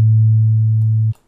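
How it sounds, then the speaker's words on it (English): Steady sine tone from the Jenny oscillator on a Haken Continuum running EaganMatrix, a loud, pure low hum with a faint second partial, held unchanged for about a second and then cut off abruptly. "I basically duplicate the sine wave that I had before"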